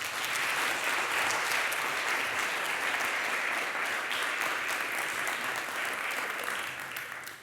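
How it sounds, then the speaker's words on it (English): Audience applause at an eco-social renewal conference session, a full steady round of many hands clapping that holds evenly and then begins to thin and fade near the end. "Another applause for them, please"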